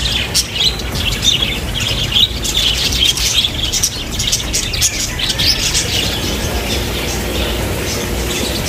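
Lovebirds at a hotel in Tacloban chirp repeatedly in bright, high tweets, fairly close and lively over steady background noise, busiest early and thinning toward the end.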